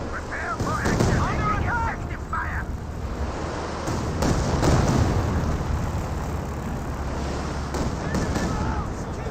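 Strafing-run gunfire from aircraft in Company of Heroes 2 rattles in dense bursts amid explosions and battle noise, loud and continuous throughout, with a voice talking at times.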